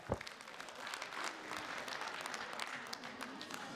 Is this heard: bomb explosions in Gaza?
no